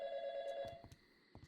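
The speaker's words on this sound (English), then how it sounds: "The phone is ringing." An in-game telephone in the video game YIIK rings with a steady electronic tone held for about half a second, followed by a few soft clicks and thumps as the ringing stops.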